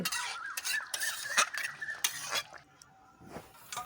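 Cooked pointed gourd (potol) curry being poured and scraped from a pan into a bowl, a steady run of close metallic clinks and scrapes of utensil against cookware, fairly loud and continuous without talk.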